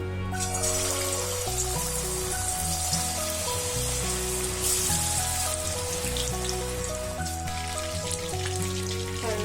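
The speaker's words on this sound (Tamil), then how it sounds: "இப்போது எண்ணெய் காஞ்சிருச்சு, ஃப்ரை பண்ணிடலாம் ஒன்று ஒன்றா." Marinated chicken kebab pieces fry in hot oil, a continuous rain-like sizzle and crackle beneath steady background music.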